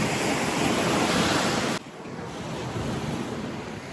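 Sea surf washing onto a shore near Odesa, a steady broadband roar with wind buffeting the microphone, loud for the first half and then abruptly quieter but continuing, with no talking.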